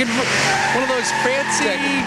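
A Corvette Z06 sports car pulls up on a city street, its engine note rising and falling, with a brief tire squeal, under steady talk from a television presenter.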